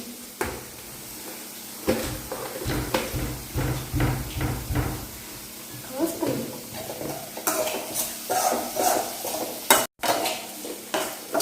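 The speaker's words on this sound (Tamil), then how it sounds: "அப்படியே கிண்டுங்க." Semiya upma stirred in a frying pan with onions, a spoon scraping and clinking against the metal in repeated strokes over a soft sizzle, close and moderately loud with no talking.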